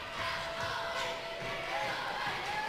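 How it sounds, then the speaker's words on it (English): A basketball crowd at a senior girls' and boys' Blue Division final fills the gym with a steady, loud roar late in the game, a dense wash of voices and cheering holding level throughout with no distinct speech. "Crowd getting louder and louder as this game gets closer and closer to the fourth quarter."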